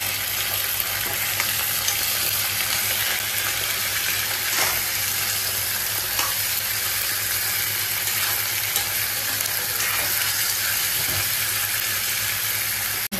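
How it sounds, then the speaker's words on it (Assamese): Potatoes and vegetables sizzle steadily in hot oil in a home kitchen pan, prepared for a fish curry, with a constant crackling fry and occasional stirring clinks, no talk. "ভাজি দি দিছোঁ"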